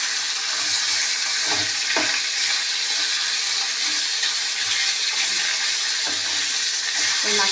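A fish head fries in hot oil in a pan, making a loud, steady close-up sizzle with occasional sharper pops and crackles throughout.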